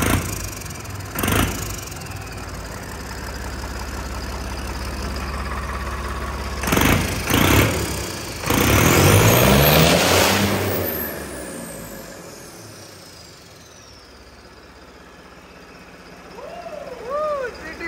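A bulldozer fitted with a turbo runs its engine, a steady idle broken by several short loud revs and one longer surge with a rising whine, then settling lower. No one talks over it.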